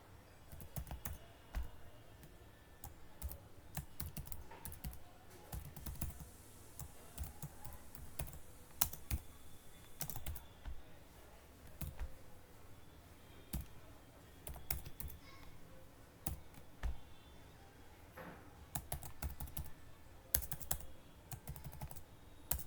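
Steady typing of code on a computer keyboard, dense quick key clicks running continuously at close range with no talk.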